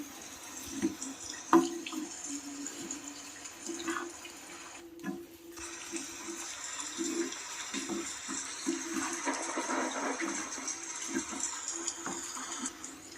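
Water pours and splashes steadily into a pot while cooking chicken biryani, running continuously at moderate volume with a brief pause partway through.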